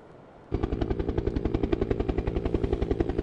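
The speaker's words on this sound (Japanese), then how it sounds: "避難者を乗せるヘリが那智美公民館に到着しました。" A helicopter carrying evacuees arrives at a community hall in the Noto Peninsula earthquake zone of Wajima, Ishikawa, its rotor starting abruptly with a loud, steady rapid thudding that holds close and constant.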